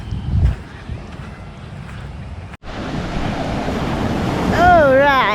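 Ocean waves wash onto the beach in front of a hotel resort at Sichon, Nakhon Si Thammarat, a steady surf rush mixed with wind buffeting the microphone, growing louder toward the end.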